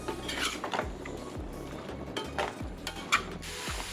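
Ratha poriyal stirred in a pan over a medium flame, with a steady scraping of a ladle against metal and repeated soft knocks, close and moderately loud.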